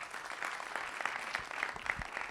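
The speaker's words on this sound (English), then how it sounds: "I am really excited about all these applause that we're getting tonight." An audience at a community meeting for an entertainment and sports arena applauds, a steady wash of clapping hands that holds for a couple of seconds at moderate volume.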